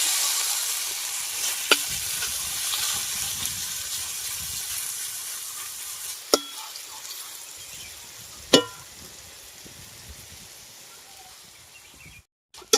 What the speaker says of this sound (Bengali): এবার এটাকে তেলে ভেজে নেব